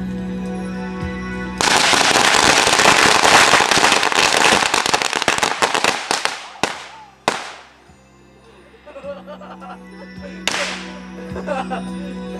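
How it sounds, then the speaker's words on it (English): Several packs of firecrackers set off outdoors: a loud, dense, continuous rattle of rapid pops lasts several seconds, thins into scattered sharp bangs, and a last few isolated cracks follow a pause. "5 packs of firecrackers,"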